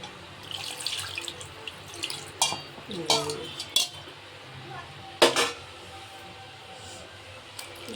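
Water poured into a pot of soaking tamarind in a kitchen while cooking an Andhra-style fish curry, coming in several short splashing bursts with light clinks of utensils, close and fairly quiet.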